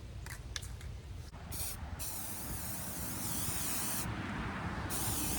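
Spray paint hisses from an aerosol can onto a skeleton prop, with a few short bursts and then a long continuous spray that grows steadily louder.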